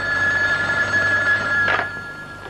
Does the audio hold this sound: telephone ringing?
yes